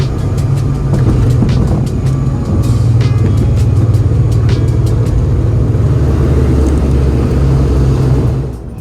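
Steady, loud cabin roar and low engine drone inside an Aer Lingus Regional airliner descending toward Dublin, constant throughout with faint clicks and rattles above it.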